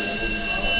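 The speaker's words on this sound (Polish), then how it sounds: "Włączył się alarm przeciwpożarowy." Fire alarm sounding at a campsite in Iceland, a loud steady electronic ringing tone held without a break and close by.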